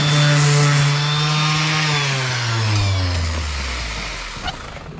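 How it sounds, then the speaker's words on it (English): Angle grinder with a flap disc sanding a welded aluminium bed and battery frame, a loud steady motor whine that slowly drops in pitch as it winds down, with no talking. "I use a flappy disc on an angle grinder and then sand it down"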